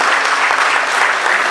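Dense, continuous applause from an audience at a scholarship awards ceremony, a loud, even wash of many hands clapping at once without pause.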